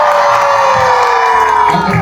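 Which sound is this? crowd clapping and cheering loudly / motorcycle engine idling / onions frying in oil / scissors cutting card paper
crowd clapping and cheering loudly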